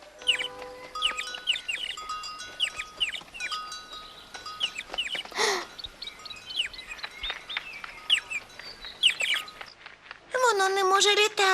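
A little chick chirps in rapid high, thin peeps, repeated throughout alongside other bird calls, with people talking in between and a louder burst of chirping at the end.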